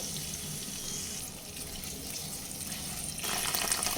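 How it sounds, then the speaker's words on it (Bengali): Water runs steadily from a tap while a bowl is rinsed in a kitchen, a continuous hiss that grows louder and brighter near the end. "সব বাটি ধুয়ে অল্প একটু জল দিয়ে দেব"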